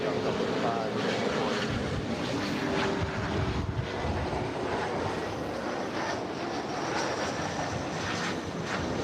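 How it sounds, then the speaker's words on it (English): An American Eagle CRJ-700ER regional jet arriving at LAX from Portland, its engines a steady, broadband roar with wind buffeting, loud and continuous throughout. "Our next arrival, American Eagle, flight 3059, coming in from Portland. It's a CRJ, 700 ER."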